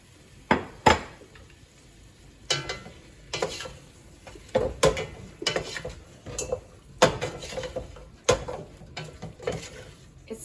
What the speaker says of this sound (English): I'm going to put in my nicely browned meat and the juices from the meat